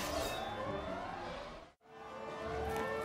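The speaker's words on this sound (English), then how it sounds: "siren continues like 24/7 here, and even through combat" A wailing siren in the video game Final Fantasy XIII sweeps up and down continuously, loud and droning, cutting out abruptly for a moment before resuming.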